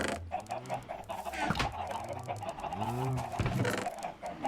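Chickens cluck and chirp from a Minecraft egg farm where a dispenser shoots out eggs that hatch into chicks, a run of bird calls over a busy game background, with no talking.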